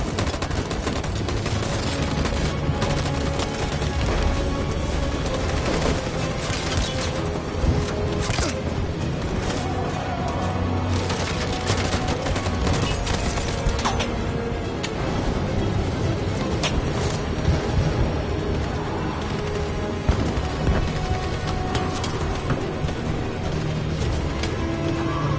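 Volley of gunfire in the game Detroit: Become Human, loud sustained bursts of rifle and machine-gun shots with booms rolling continuously close by for the whole stretch.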